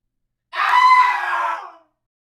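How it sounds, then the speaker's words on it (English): An old woman screams once, a single loud, strained cry lasting just over a second and heard alone against silence. "when she heard these words, she screamed and fainted"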